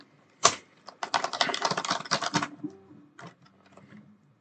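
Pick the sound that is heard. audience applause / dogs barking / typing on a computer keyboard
typing on a computer keyboard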